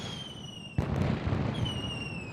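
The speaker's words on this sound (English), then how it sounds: "And there's the fireworks." Fireworks in the video game Rise of Industry: a sudden burst of crackling explosions over a steady tonal game background, lasting under a second before fading back to the music.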